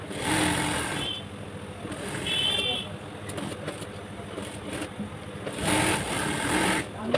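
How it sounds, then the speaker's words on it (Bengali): Sewing machine double-stitching cloth for a baby frock, its motor whirring in close, loud runs that rise and fall with brief pauses, while a person talks over it. "দেখেন টান করে নিলাম, তারপর ডাবল সেলাই দেবো 2টা"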